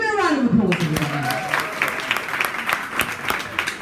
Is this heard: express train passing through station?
no